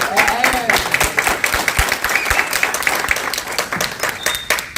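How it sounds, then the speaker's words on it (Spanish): Church congregation clapping along at a Spanish-language service, a steady crowd of many hands with a few sharper claps standing out, with a voice speaking over it and faint tones in the background. "vamos a aplaudir así como"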